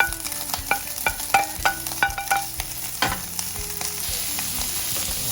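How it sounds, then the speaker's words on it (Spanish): Guanciale fries in a pan for traditional carbonara, giving a steady close sizzle. Sharp clinks and scrapes of stirring repeat through the first half, with no voices. "vamos a agregar nuestro guanciale a nuestra sartén"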